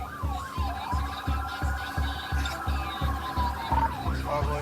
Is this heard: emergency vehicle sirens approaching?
yes